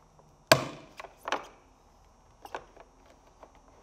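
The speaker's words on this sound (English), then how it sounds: "You can hear that one popped out." A plastic door panel clip on a BMW 535i F10 snaps loose with one sharp, close pop, followed by a few lighter plastic knocks and creaks as the panel is pried.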